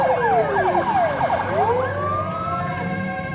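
Several fire truck sirens wail at once on the way to a fire, overlapping rising and falling tones that are loud and close, over a low rumble of traffic and engines.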